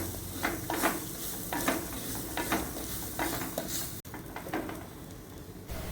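Grated coconut frying and being stirred in a pan for payar curry, with a soft continuous sizzle and repeated scraping spoon strokes against the pan, close and clear.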